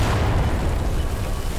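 Weapon fire in Garry's Mod, a dense, loud booming blast of gunshots or explosions filling the whole moment with no speech.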